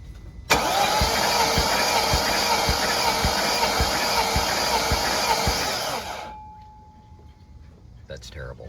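A BMW 540i V8 from 2000 cranks on the starter during a compression test, a loud, even whirring with regular pulsing beats that runs about six seconds, then cuts off, followed by faint background sounds.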